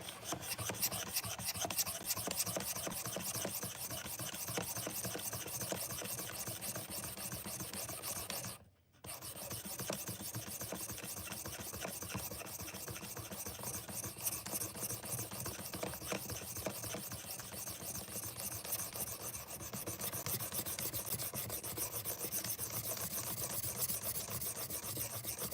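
Kitchen knife drawn across a 600 grit abrasive on a Work Sharp Precision Adjust sharpener, a close, continuous rhythmic rasping of repeated strokes with one brief pause midway.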